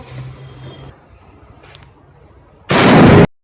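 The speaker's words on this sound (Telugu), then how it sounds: "ఈ లోపల మళ్ళీ ఇంకో బాంబు పెట్టాడు" A large firecracker bomb goes off at a Diwali celebration, a single loud, sharp blast that ends a few quiet seconds of faint background noise.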